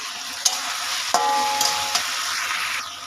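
Water lily stems sizzle and fry in a pan, a steady loud hiss broken by a few sharp clinks of a stirring utensil against the pan, with no voices.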